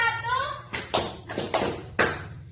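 Children in an elementary classroom clap in a call-and-response clapping game, producing a few sharp group claps spaced unevenly, following a chanted count.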